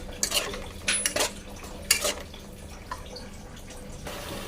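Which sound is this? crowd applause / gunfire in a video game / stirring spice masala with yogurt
stirring spice masala with yogurt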